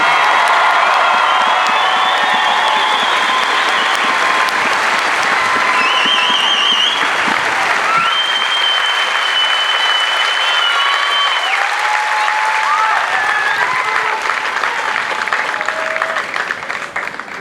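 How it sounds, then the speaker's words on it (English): Sustained applause and cheering from a large crowd at an Air Force Basic Military Training Airman's Coin Ceremony honoring graduates, loud and continuous with whoops rising above the clapping before it slowly tapers. "How about a nice round of applause for all of our honor graduates?"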